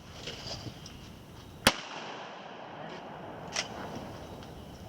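A shotgun fires at a clay target at Camp Rodney. One sharp, loud blast cracks out near the middle, then a fainter pop follows in open outdoor ambience.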